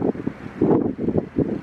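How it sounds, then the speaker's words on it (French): Strong morning wind sweeps across an open plateau in about 8-degree cold, buffeting the microphone in loud, irregular low rumbling gusts with no voices. "Il y a beaucoup de vent sur le plateau, nous, ce matin."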